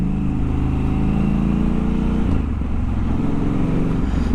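A Triumph Scrambler 1200 XE motorcycle engine runs loud and steady at close range, a deep throbbing rumble that shifts slightly midway, with no voices.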